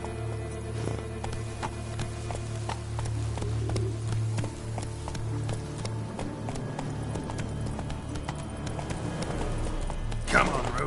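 Roach, the horse in The Witcher 3: Wild Hunt, gallops with a steady, close rhythm of hoofbeats over a low sustained backing that continues throughout.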